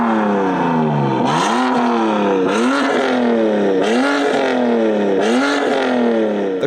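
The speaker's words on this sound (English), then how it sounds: "The N55 can be just as awesome as the more popular N54, and it actually sounds better" BMW F30 335i with an N55 engine and a big turbo accelerating hard, loud and close, its engine note rising in repeated pulls broken by brief gear-shift dips.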